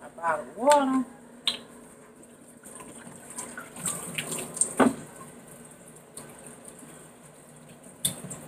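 Water runs from a kitchen tap in short, faint bursts, with a few clinks and small splashes between them in a quiet room.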